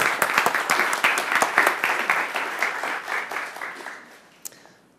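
Audience applause at a Swedish public talk on online hate and democracy, as the first speaker is welcomed onto the stage: a burst of many people clapping that starts full and slowly thins out, ending with a last few scattered claps.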